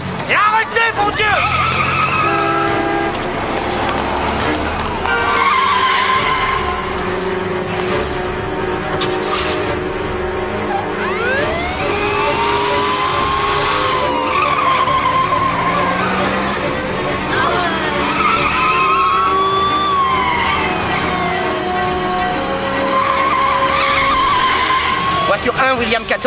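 Car chase pursuing a rust-coloured Buick down a steep avenue toward a boulevard, with loud screeching tire skids that rise and fall in pitch over revving engines, while voices and dramatic music play throughout.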